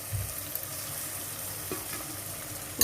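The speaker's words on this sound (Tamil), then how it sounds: "உப்பு போட்டு நல்லா கிளறி விட்டுக்கலாம்." Salt being stirred into frying masala for mutton biryani, a steady soft sizzle with faint scraping stir sounds and a louder clack near the end.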